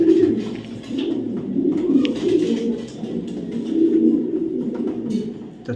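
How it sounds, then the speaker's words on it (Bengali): A male red checker racing pigeon coos in soft, repeated low rolling calls, close by and fairly steady, rising and falling in a few phrases with no talk over it. "কবুতরটা ছাড়ি"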